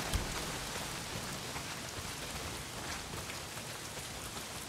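Heavy rain pours down in the video game Days Gone, a dense, even hiss of droplets that stays faint and steady throughout with no other sounds.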